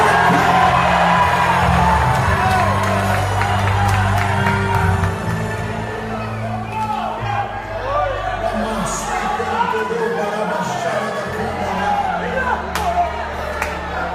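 Church congregation shouting and cheering together, a loud crowd roar of many voices that peaks at the start and gradually settles, with music droning underneath.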